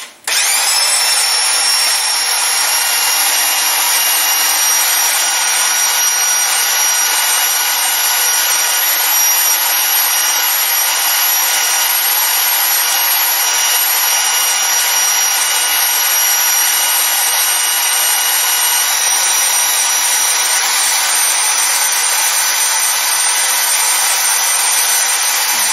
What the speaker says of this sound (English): now I'm going to cut a slight slice on it like this